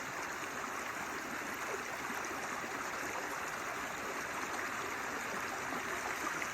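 Steady rush of water tumbling down a hillside stream on a rural property, a continuous broadband flow heard close and alone with no voices.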